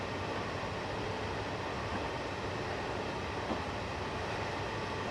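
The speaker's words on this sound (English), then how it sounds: "Train off in the distance right there as well." Steady, low rumble of a train engine climbing Cajon Pass in Train Simulator 2015, a continuous even drone with no voices.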